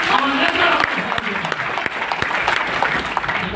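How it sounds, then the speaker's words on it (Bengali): Loud, dense applause from an audience at an indoor meeting in a party centre, sustained and continuous throughout with a crowd murmur underneath. "জোরে একটা হাততালি চাই।"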